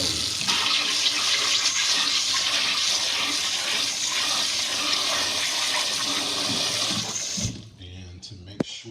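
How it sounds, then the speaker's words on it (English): Cold water gushes steadily from a tap to soak strawberry tree foliage, a loud continuous rushing that cuts off abruptly near the end. "We're just going to go ahead and soak that in cold water."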